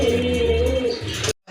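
A pair of orange chila pigeons with snake-like eyes coos in low, rolling throaty calls, close and steady, then stops abruptly near the end.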